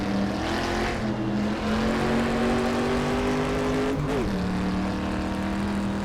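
A 1960s Sunbeam Tiger MkII with a four-speed gearbox and an oversized engine, revving loudly in a racing video game at Laguna Seca, a sustained steady drone that climbs, then drops sharply at a gear change.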